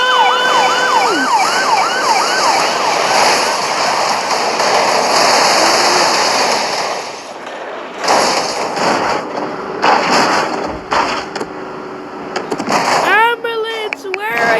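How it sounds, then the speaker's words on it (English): An ambulance siren wails in rising and falling sweeps at the start, gives way to a busy mix of other sounds, then returns with quick whooping sweeps at the end. It is loud and close, with voice-like sounds in the background. "Ambulance, where are you going?"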